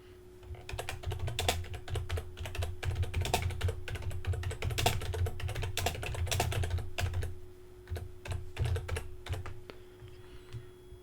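Steady, fairly close typing on a computer keyboard while entering text into a website page builder, with rapid irregular key clicks running throughout and a brief slowdown near the end, no voices.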